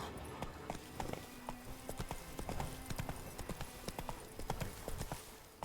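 Hooves of a horse galloping in The Witcher 3 pound out a steady, rapid clip-clop rhythm at moderate distance, with faint game ambience beneath.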